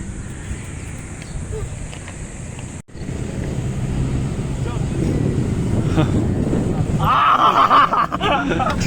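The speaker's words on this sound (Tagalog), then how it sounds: "malakas ang hangin malakas ang hangin" Strong wind roars against the microphone during a night motorcycle ride from Calamba to Tagaytay, with a rumbling engine underneath, swelling louder toward the end, with a brief dropout near the start.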